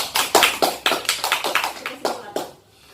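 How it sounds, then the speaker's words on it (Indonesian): A classroom of students claps together for a classmate named Fajar, a burst of close, sharp hand claps in an uneven rhythm that tapers off after about two and a half seconds. "beri tepuk tangan untuk Fajar"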